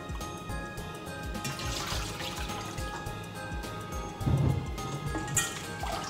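Running water splashing over soapy hands being rinsed under a tap, a steady close trickle and pour with a brief louder splash near the end.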